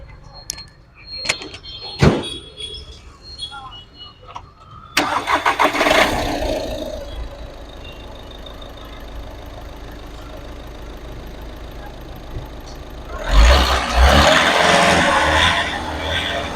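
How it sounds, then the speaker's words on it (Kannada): A 2015 Skoda Rapid diesel car is started after a few clicks and a door thud. The engine catches with a loud burst, then settles into a steady, low idle clatter that swells again near the end. "ಇವಾಗ ಸ್ಟಾರ್ಟ್ ಮಾಡಿ ತೋರಿಸ್ತೀನಿ ಇಂಜಿನ್ ಹೆಂಗಿದೆ ಅಂತ"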